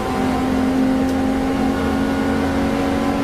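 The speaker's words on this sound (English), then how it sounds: "We can ride on board then with Michael Sheraton trying to close after the class leader in Class D, Daniel Smoot in the number 92 car." Touring race cars, BMW 325s, race at Silverstone in an onboard view, a steady loud engine drone holding a sustained note throughout with no talk over it.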